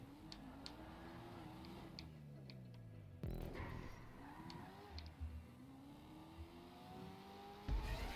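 A battered car's engine in a racing video game, a steady synthetic drone rising and dipping with gear changes, with repeated sharp ticks and a louder burst near the end.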